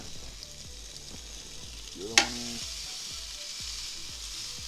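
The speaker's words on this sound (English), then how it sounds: "Hear that sizzle." Pork chops sizzle and crackle steadily on a hot Ninja Foodi electric grill with a constant frying hiss. A brief voice speaks partway through, plus a sharp clink.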